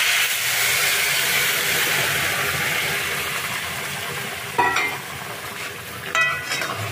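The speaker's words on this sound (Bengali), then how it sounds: "এই সোয়া 2 কাপ জলটাকে আমি এর মধ্যে ঢেলে দেব" Hot water poured into frying rice for a fish-head muri ghonto, a loud, close, steady sizzle and steam hiss that fades a little, broken by two sharp bursts of stirring scrapes.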